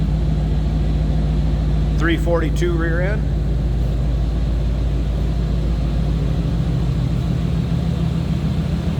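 Deep, steady exhaust rumble from a 1995 Chevrolet Tahoe LS 4x4 fitted with true dual exhaust, idling continuously under a brief spoken comment partway through.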